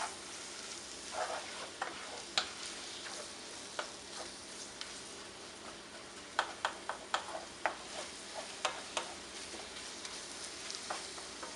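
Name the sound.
minced meat frying in a pan for pastelillos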